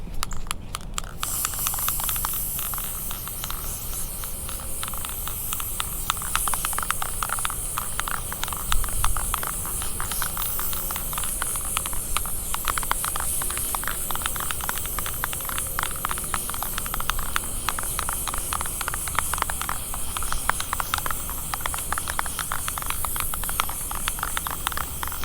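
Aerosol spray misted in steady, continuous hissing bursts onto a fiberglass rear speaker deck, with no talking alongside.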